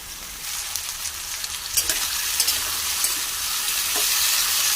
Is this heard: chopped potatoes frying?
yes